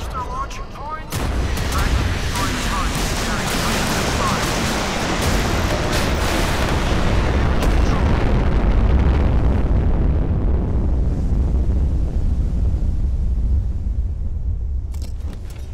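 Naval gunfire and blasts from a warship in the Modern Warships game, with the USS Ohio in play: a dense, continuous roar of booms and rumbling explosions that sits loud and close throughout, easing slightly toward the end.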